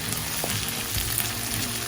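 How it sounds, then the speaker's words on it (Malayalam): A large batch of sliced onions sautés in a pan for beef stew, a close, even sizzle with a few soft stirring knocks, brief and without talk. "ഇനി ആദ്യം ഈ സവാള നന്നായിട്ട് വഴറ്റിയെടുക്കാൻ."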